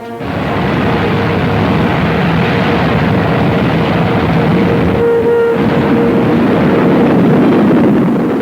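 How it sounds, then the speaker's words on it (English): A V-2 rocket launches in 1945 newsreel footage, a loud, continuous roaring rush that swells and holds for several seconds with a brief tonal shift midway. "Jet-propelled, the V-2 rises faster and faster until a speed of 50 miles a minute is attained."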